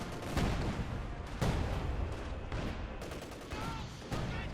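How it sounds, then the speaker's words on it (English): Mortar blasts and assault gun fire in a Company of Heroes 2 1v1 match, with loud, dense overlapping booms and shots in rapid succession and no pause between them. "mortar fire, assault gun fire"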